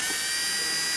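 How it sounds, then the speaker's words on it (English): A small drill whines steadily and close up as it bores mounting screw holes through the cowl of a large-scale F8F Bearcat RC plane, a brief high-pitched buzz with no talk. "Now to drill the holes for mounting screws."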